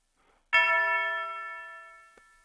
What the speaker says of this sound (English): Listen how it sounds without bells.